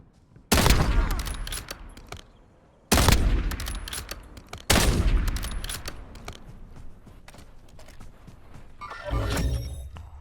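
Gunfire in the video game Warzone: three loud bursts of rapid automatic fire, each cutting in sharply and trailing off into echo, then a further quieter volley near the end.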